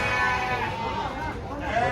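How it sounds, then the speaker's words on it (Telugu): Rampur goats at a busy Hyderabad goat market bleat in a short wavering call amid crowd murmur and nearby voices, the animals moderately close. "రాంపూర్ మేకలు."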